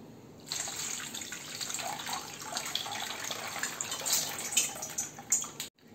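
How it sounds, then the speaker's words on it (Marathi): Soaked chana dal is rinsed in water, with a steady splashing, running-water wash and light sloshing that swells near the end before stopping abruptly. No one speaks. "भिजलेली डाळ 3 ते 4 पाण्याने आपल्याला स्वच्छ धुवून घ्यायची आहे"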